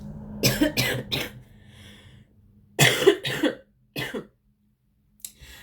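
A series of harsh, close coughs in two clusters, followed by a couple of shorter coughs and brief silences between.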